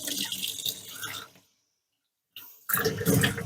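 Water rinses cleaning product out of polishing pads, a steady broadband splash that runs alone, cuts off into brief silence, then resumes louder and fuller.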